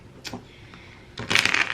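Tarot cards are shuffled by hand. A brief riffle is followed by a louder, denser burst of cards flicking and sliding together at close range.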